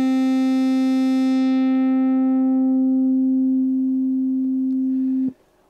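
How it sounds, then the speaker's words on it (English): A steady synthesizer tone filtered by a low-pass filter, its bright buzzy square-wave edge fading away over several seconds into a pure, smooth sine-like hum before cutting off abruptly, with no talk. "All the harmonics were being cut out, and we're down to what's now a sine wave."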